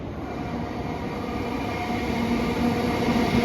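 An Avanti passenger train on a test run from London Euston to Crewe, diverted via Stoke-on-Trent, rolling past nearby with a steady loud rumble, rising slightly, and faint wheel squeal tones.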